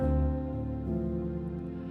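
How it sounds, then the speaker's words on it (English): Soft sustained string chords playing steadily, shifting to a new chord partway through, quiet and smooth with no voices. "I got the strings in the background"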